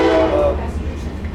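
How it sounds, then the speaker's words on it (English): A train horn blares nearby with a steady tonal blast over a rumbling rail background at an outdoor bar beside the tracks, fading after about half a second while the low rumble continues. "I'm getting heckled by this train."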